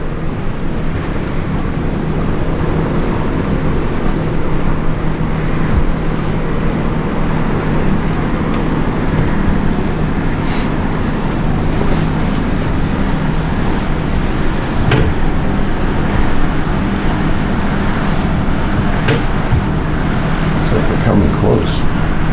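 Continuous boat engine drone on open water during a cruise, steady and fairly loud with wind and wave noise, while people talk over it.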